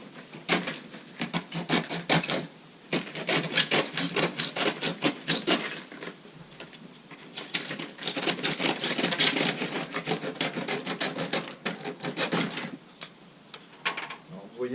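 Rhythmic rasping strokes of a hand saw cutting through a wooden board, close and steady with brief pauses between bursts.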